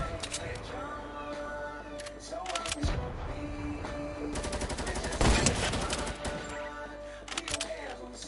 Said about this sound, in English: I hear gunshots over there.